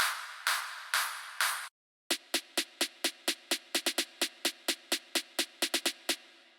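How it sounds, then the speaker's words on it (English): Drop claps layered for a progressive house build-up: a few long noisy hits, a short pause, then a fast steady run of sharp, loud clap strikes that repeat evenly to the end, with no talk. "Some drop claps."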